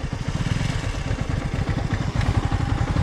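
An off-road motorcycle engine rumbles loud and close with a continuous throbbing putter, taken while riding down a steep hillside, with some rattling clatter mixed in.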